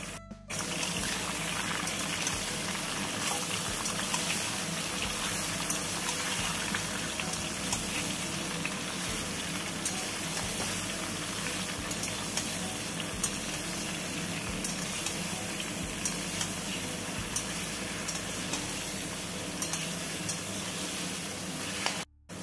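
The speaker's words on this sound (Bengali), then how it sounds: "আমগুলো দিয়ে একটু নেড়ে চেড়ে নেব।" Raw green mango pieces sizzle and fry in hot oil for a sweet, sour and spicy pickle, with a steady dense crackle and occasional stirring scrapes throughout, close and continuous.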